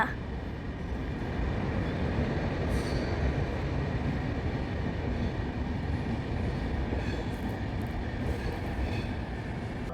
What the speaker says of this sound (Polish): Przejeżdża pociąg ekspres Intercity Panorama ze stacji Warszawa do, ze stacji Wrocław Główny do stacji Warszawa Wschodnia z dziewiątką na czele.